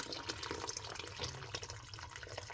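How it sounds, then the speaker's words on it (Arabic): Hot water poured into a pot of free-range chicken for Moroccan rfissa, a steady splashing liquid stream close by, continuous for a couple of seconds with no talking. "صافي دابا غادي نزيدوا الماء الكافي، الماء راه سخون."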